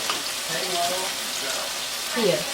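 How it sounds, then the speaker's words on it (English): Chopped capsicum sautés in three to four tablespoons of oil over a high flame for chutney, giving a steady, close hiss and sizzle with a brief spoken word over it. "Now this is getting sauteed."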